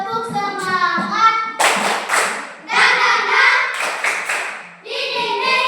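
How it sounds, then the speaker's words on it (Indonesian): Students in a religion class perform a rhythmic group spirit clap, bursts of sharp clapping in patterned beats mixed with young voices chanting along, stopping and restarting in short sections. "Tepuk semangat."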